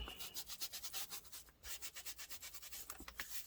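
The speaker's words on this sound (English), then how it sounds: "I'm just rubbing that in a few areas that I just feel need to be deepened up a little bit" Rapid rhythmic rubbing of ink into a mixed media art journal cover, a close, steady scrubbing swish repeating several times a second with one brief pause.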